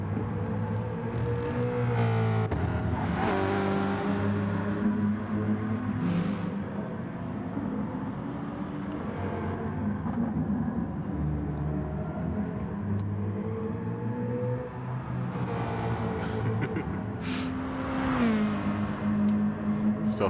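Race car engines roar continuously in GT Sport practice lobby racing at the Red Bull Ring Short layout, with rising and falling revs as several cars run close together, loud and steady throughout.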